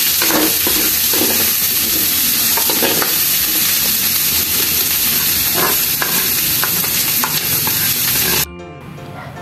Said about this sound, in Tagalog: Yung mga bawang, sibuyas, and luya. Yan, igigisa na nga niya.